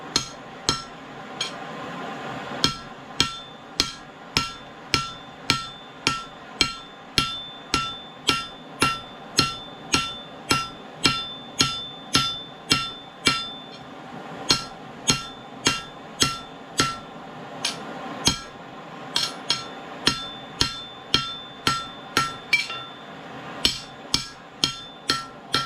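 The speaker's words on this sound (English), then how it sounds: "So I'm just hammering on the corners." Steady, evenly spaced hammer blows ring out on hot forged steel while squaring a long chisel's corners, dozens of sharp metallic strikes in a regular rhythm with brief pauses.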